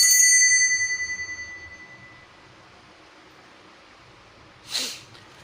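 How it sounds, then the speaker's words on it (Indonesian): A single bright bell chime rings out to open a tarot card reading, its tone fading over about two seconds, followed by quiet and then a short breathy noise near the end. "ditandai dengan bunyi tanda lonceng"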